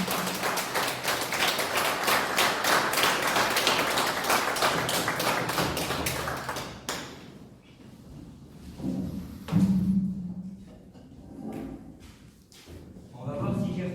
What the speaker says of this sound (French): Nous pouvons l'applaudir à nouveau avant de lui laisser la parole.